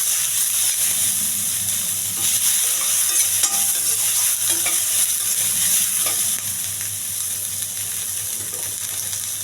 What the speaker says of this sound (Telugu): ఇవన్నీ వేసి బాగా వేగాలండి.